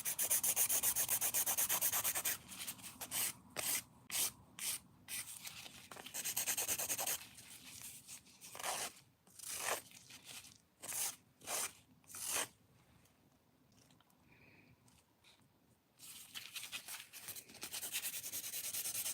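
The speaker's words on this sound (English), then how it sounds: "I'm just going to take my file and I'm going to take it down the sides." A nail file rasps along the sides of fingernails in quick back-and-forth strokes, close and crisp, with bursts of rhythmic scraping separated by brief pauses.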